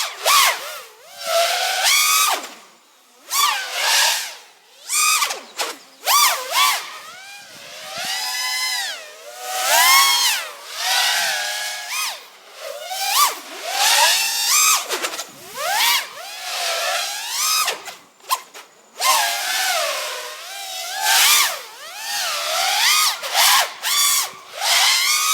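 An FPV drone's motors at full throttle on a Tattu R-Line 1300mAh 95C LiPo battery, loud whining bursts that rise and fall in pitch as the craft swoops past during a line-of-sight flight.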